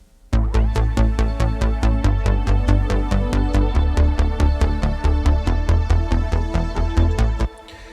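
Several Roland synthesizers play together in a dense, loud layered pattern, with sharp evenly spaced rhythmic pulses over sustained chords, stopping abruptly near the end.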